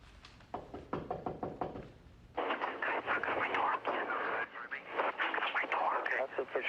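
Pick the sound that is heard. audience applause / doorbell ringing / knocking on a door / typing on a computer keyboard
knocking on a door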